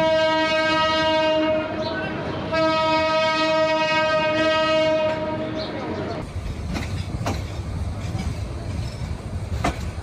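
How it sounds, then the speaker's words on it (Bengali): A passenger train departing Dhaka towards Azampur sounds a long, loud, steady horn for about six seconds, then the rumble and clatter of the carriages picking up speed continues. "নির্ধারিত সময়েই ট্রেন যাত্রা শুরু করল।"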